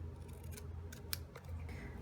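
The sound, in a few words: paper snips cutting a rectangle out of paper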